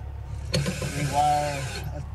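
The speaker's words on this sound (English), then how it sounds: "So here he is just screwing it down to the floor." A screw is driven to fasten an Alde 3020 boiler down to the floor of a truck camper: a short burst of ratcheting, clicking mechanical sound at close range lasting under two seconds.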